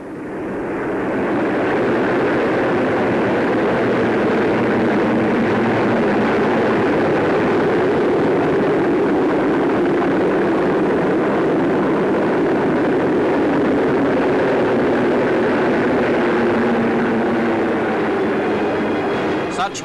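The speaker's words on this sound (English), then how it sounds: "Anti-submarine squadrons, fighters, reconnaissance aircraft and night fighters, aircraft of the Fleet Air Arm" Naval aircraft of the Fleet Air Arm, including anti-submarine squadrons, fighters, reconnaissance planes and night fighters, fly over at the Coronation Naval Review, a steady loud droning roar sustained throughout without a break, with a faint voice beneath.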